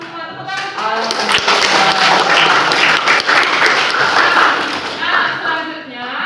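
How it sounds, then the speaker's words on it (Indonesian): A classroom of chemical engineering students claps together in sustained, lively applause that swells and then tapers off, close and fairly loud, with a teacher's voice briefly heard at the edges. "Tepuk tangan."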